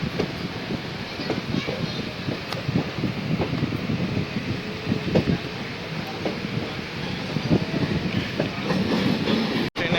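The Ganadevata Express from Howrah to Ahmadpur runs at close to 100 km/h. A steady rumble carries repeated rhythmic clickety-clack wheel beats and wind rush, heard from on board with a brief sharp knock near the end.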